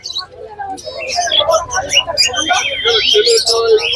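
Gouldian and zebra finches at a bird market in Serampore, a dense flurry of high chirps and tweets from many small birds close by, continuous and loud, with a voice mixed in underneath.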